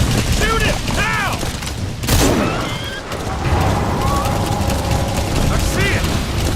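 Gunfire and blasts in the video game Metal Gear Solid V during a chase toward a harbor. A loud crack and burst land about two seconds in, set among engine rumble and mechanical noise, with voices shouting over the action.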